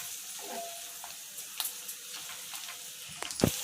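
Curry leaves sautéing in a pan with browned onions for a skillet chicken pepper fry, a soft continuous sizzle with light scrapes and a sharper clatter near the end.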